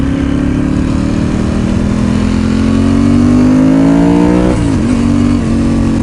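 A motorcycle being ridden, its engine droning loud and close and climbing steadily in pitch as it accelerates, then dropping briefly as if shifting gear. No voices.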